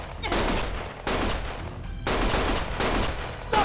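Heavy bursts of gunfire in the video game Lost Judgment, four or five loud sustained volleys separated by brief gaps, close and harsh, with no speech.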